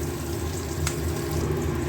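Chopped onion and onion paste frying in oil for katla posto, a steady, even sizzle with a soft low hum beneath and one brief scrape partway through.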